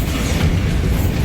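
Bombarda spell explosion in the video game Hogwarts Legacy, a loud dense rumbling burst with heavy low-end boom filling the moment, no voices.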